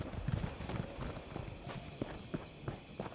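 Caravan horse hooves clip-clopping in the Elder Scrolls Online video game, a steady walking rhythm of repeated hoof strikes at moderate distance over soft ambient background.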